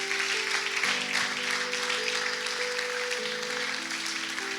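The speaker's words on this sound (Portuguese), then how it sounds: "Aplaudam o Senhor." A church congregation claps steadily together for several seconds, a dense sustained applause with a sung or held musical tone underneath.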